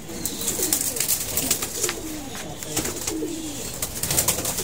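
Pigeons in a loft cooing softly, with repeated low burbling coos overlapping at a moderate distance and no talking.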